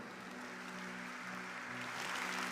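Audience applause at a live prayer meeting, a steady, dense wash of clapping that builds slightly toward the end, with a faint tonal hum underneath and no talk.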